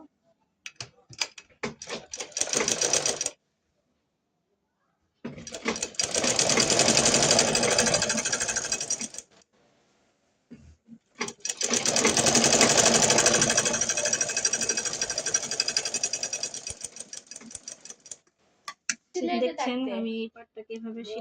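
A sewing machine stitches a folded hem on a salwar, two long loud runs of steady whirring separated by pauses, with short starts and stops at the beginning and end.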